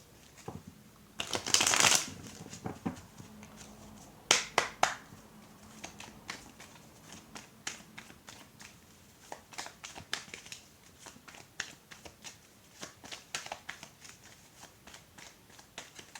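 A deck of cards is shuffled and cut for a card reading, with a burst of riffling early on, then scattered soft snaps, flicks and slides of cards laid down at close range, fairly quiet throughout.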